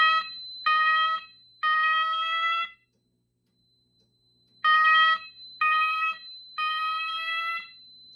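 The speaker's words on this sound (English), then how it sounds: "then we can activate the 4th floor signals" A Notifier System 500 fire alarm panel sounds its 4th floor signals during a demo, loud harsh electronic horn blasts in repeating bursts with a short silent gap between two groups.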